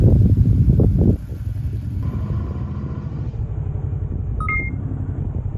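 Seoul city road traffic heard from a moving motorcycle, a steady engine and wind rumble with a louder roar at the start, then brief high electronic beeps near the end.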